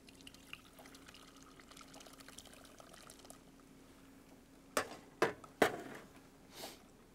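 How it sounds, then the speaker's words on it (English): Gravy strained into a clean pot: a faint low kitchen hum, then several distinct splashy pours and taps in quick succession near the end, close by and without talk. "Strain it into a clean pot."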